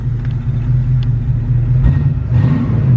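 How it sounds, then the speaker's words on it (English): A 1966 Ford Mustang convertible's V8 engine rumbles steadily at low pitch while cruising, with a mild swell of revs near the end and no voices. "Sounds like a V8."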